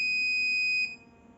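Simulated Arduino motion-detector alarm buzzer in Tinkercad gives a steady, piercing electronic tone that cuts off abruptly after under a second, leaving faint background hiss.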